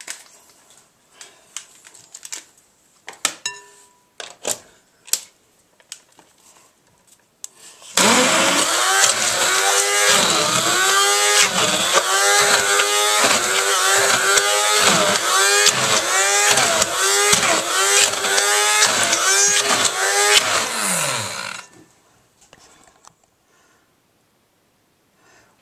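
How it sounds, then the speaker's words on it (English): A small electric hand mixer beats cake batter with egg. After a few faint clicks and taps, the motor whirs on loudly with a steady buzzing drone and rhythmic pulsing for about fourteen seconds, then stops. "At this point I bring in my little electric hand mixer."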